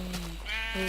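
Minecraft sheep bleating twice in quick succession, close and clear, two short wavering cries separated by a brief gap, with no talking.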